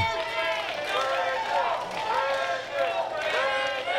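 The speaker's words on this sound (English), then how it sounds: "Hear the crowd chanting Brandon." A wrestling crowd at a CCW event chants the name Brandon in rhythmic waves, loud and continuous with a raised, shouting quality.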